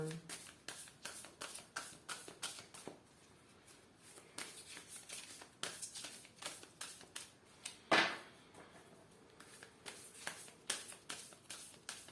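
Tarot cards shuffled by hand for a love reading, a quick run of crisp riffling flutters and soft slaps repeating close up, with one sharper snap partway through.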